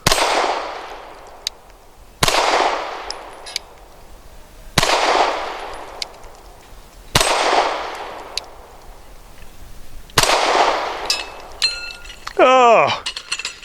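Five sharp Taurus G3 pistol shots fired at a 6-inch steel spinner target a little over 10 yards away, each one a loud close crack with a ringing clang, spaced a couple of seconds apart, the spinner's metallic ring trailing after the last shot.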